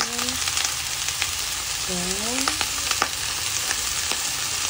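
Chopped onion and garlic sizzle and crackle as they are stirred in a hot pan, a steady close frying hiss with light scraping, and a voice speaks briefly at the start.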